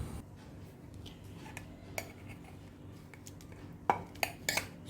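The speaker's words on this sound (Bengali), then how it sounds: "সেদ্ধ করা বাঁশকুড়ুল চিংড়ি মাছগুলো আমি ঢেলে নিচ্ছি।" Boiled bamboo shoots and shrimp being tipped into a dish for mashing, heard as a quiet kitchen scene with a few sharp clinks of utensil against the dish near the end.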